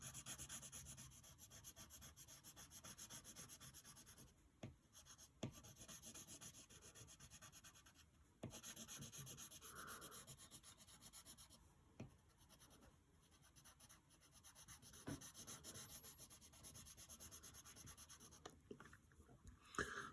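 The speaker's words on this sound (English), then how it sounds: "take this side of your pencil and just shade it in black" Soft, steady graphite rubbing as the side of a pencil lead shades in black on paper, close and continuous with short pauses where the stroke lifts; no talk.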